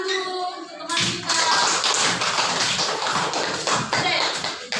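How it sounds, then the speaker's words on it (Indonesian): Students in a classroom clap together, a dense steady patter of many hands that starts abruptly after a short spoken phrase and continues for several seconds. "Beri tepuk tangan dulu untuk teman kita."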